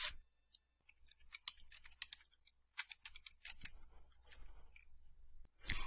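Keys on a computer keyboard are tapped while typing into Microsoft Word, in uneven bursts of light, close clicks separated by short pauses, with a louder clack at the very end.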